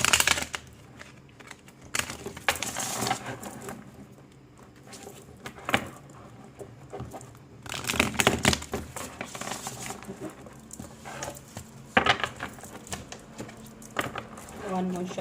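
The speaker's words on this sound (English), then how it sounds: "one more shuffle." A tarot card deck is shuffled in bursts of riffling, slapping card sounds, close and fairly quiet, separated by softer pauses.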